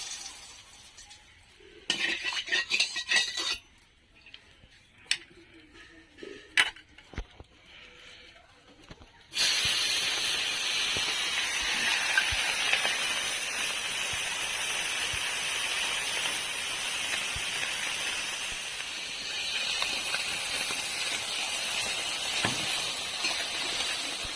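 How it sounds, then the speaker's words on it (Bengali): Small mola fish fry in hot oil in a wok, starting with scattered clinks and scrapes of stirring and then settling into a steady, dense sizzle that runs to the end. "দেখুন আমি এভাবে নাড়ছি তো খুব সুন্দর ভাজাটা আমার হয়ে গেছে।"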